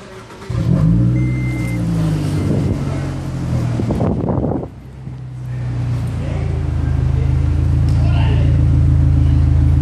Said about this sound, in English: the car should start with the press of a button as soon as I release the security system.